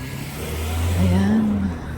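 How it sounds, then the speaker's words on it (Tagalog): Cars on a UK street drive past a pedestrian crossing, one engine swelling loudly as it approaches close by and then fading away over a low road rumble. "Dahil bibirit pa itong mga sasakyan."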